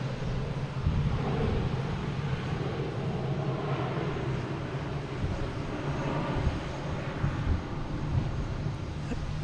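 An Airbus A321 airliner on flight 574 at Boston Logan International Airport gives off a broad, steady jet roar that swells and eases slightly, heard from a moderate distance.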